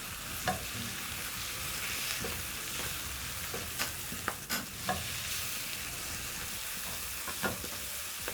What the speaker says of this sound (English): So cooking spinach usually takes about a minute. I'm using baby spinach.